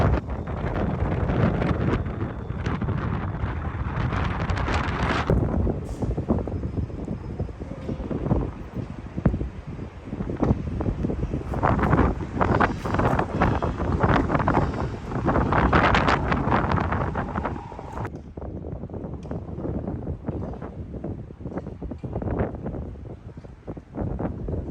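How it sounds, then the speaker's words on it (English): Strong gusting wind buffeting the microphone in Bowling Green Park, New York City, a continuous loud roar that surges and eases over the whole stretch with no talk. "Like I mentioned earlier, the wind was no joke. You can still hear it just whipping through here."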